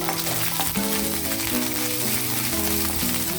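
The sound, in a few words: food frying in a pan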